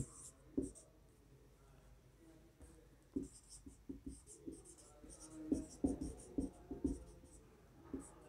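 Handwriting a sentence during an English grammar lesson: a series of close scratchy strokes in irregular bursts, with pauses between words and light background noise.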